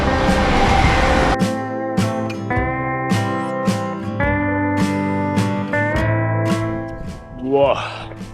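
Train on a Greek coastal line passing close by, a steady loud rumble with regular clattering beats from the wheels running over rail joints, rising into a brief burst near the end.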